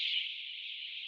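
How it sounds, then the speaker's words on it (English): Home burglar alarm sounding on a home automation system, a steady, piercing high-pitched electronic tone held continuously and loud with no pauses. "Burglar alarm's being triggered."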